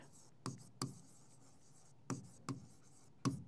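Pen or marker strokes on a board or paper during a Class 11 biology lesson, five short scratchy bursts spaced irregularly and fairly faint, with no talking over them.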